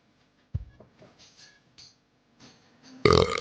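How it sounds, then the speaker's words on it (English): A belch after drinking beer, short and close, breaks through faint rustling, followed later by a louder, harsher burst. "That's a beer burp."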